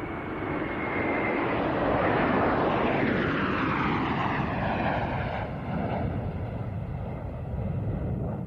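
Hawker Hunter jets of the Patrouille Suisse fly past at an airshow, a broad, roaring jet rumble that swells and shifts in pitch as they pass overhead, sustained and fairly distant.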